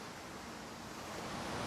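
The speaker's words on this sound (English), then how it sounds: "Look again, this beautiful waterfall" A waterfall in natural outdoor scenery makes steady broadband rushing noise that grows slightly louder toward the end, with no voices.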